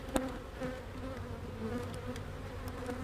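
Dense insect buzzing hums continuously, many bees droning together at close range around an open hive, with a few brief sharper bursts and knocks mixed in.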